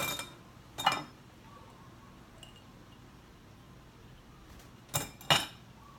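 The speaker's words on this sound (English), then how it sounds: "I'm going to wash everything in my basket really well" Metal manicure tools clink together while being washed in a basket, giving a few brief sharp jingles, one near the start and a pair near the end, over a quiet background hum.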